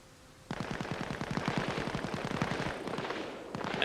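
A machine gun nest fires in Arma Reforger with a sudden, sustained fast rhythmic burst of rounds. The rattle is moderately loud and slightly distant, with no talking over it.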